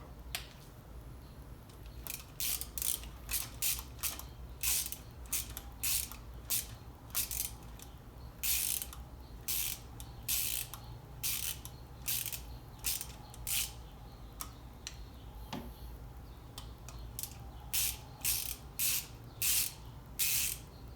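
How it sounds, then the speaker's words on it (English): Power valve linkage is loosened on a Suzuki LT 250R engine during a rebuild: a long run of quick, crisp ratchet clicks in bursts close by, with soft tool handling between. "Just loosen this up and you'll disconnect the linkage for the power valve."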